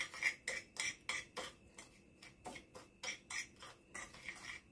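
A spoon scrapes and taps steadily on a plate while mixing sugar and cinnamon, a quick regular rhythm of light, close, bright strokes throughout.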